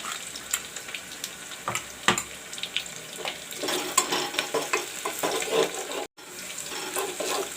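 Onions frying in a pan for a home-style chana dal, pumpkin, potato and soybean dish, a constant sizzle broken by scraping stirs and clinks, with running water from a tap or sink mixed in and no one speaking.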